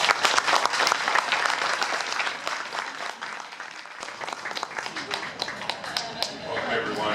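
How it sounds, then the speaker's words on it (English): A crowd applauds at an outdoor train celebration for the Amtrak Borealis in Red Wing, lively clapping with sharp individual claps that thins slightly midway, then swells again. "let's give Paul and Deb a round of applause"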